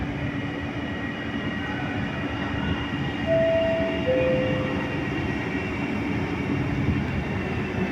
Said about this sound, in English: Il treno regionale delle ore 17:49 per Venezia Mestre è in partenza dal binario 3 metropolitano.